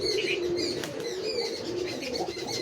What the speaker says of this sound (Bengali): এটা বিস্কুট কালারের পায়রা